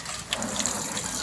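Water and freshly boiled shellfish are poured out of a pot, making a brief, close gushing, splashing pour with no talking.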